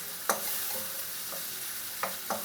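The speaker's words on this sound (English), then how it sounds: "we're gonna increase the heat to high, and we're gonna saute this for about 2 minutes" Chopped tomatoes sauté in a hot pan over high heat, giving a steady sizzle broken by a few sharp scraping stirs of a utensil, close and with no voices.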